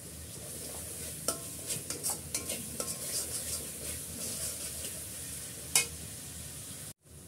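Spice masala for beef shank haleem stir-fries in a pan, a continuous close sizzle punctuated by spatula scrapes and taps, ending in a brief sudden cut.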